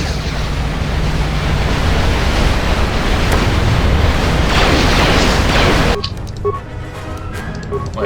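A grenade blast in the Star Wars role-playing game KOTOR II: The Sith Lords, a loud sustained roaring rumble lasting several seconds that cuts off sharply into quieter game ambience.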